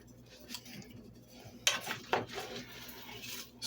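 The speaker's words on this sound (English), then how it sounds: "Get a spoon here and stir that up." A spoon stirring soup in a pot, with a few distinct metallic clinks and scrapes against the pot amid quiet kitchen background.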